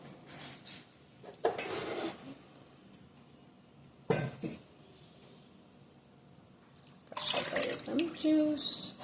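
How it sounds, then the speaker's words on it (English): Water poured from a container into a pot of ginger beer on a stovetop, heard as a few short splashing bursts near the start and middle and a longer louder pour toward the end, with quiet kitchen handling between. "I'm going to add that lemon juice and the rest of that water."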